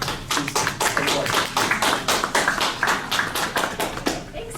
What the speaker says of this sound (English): let's give a wide applause for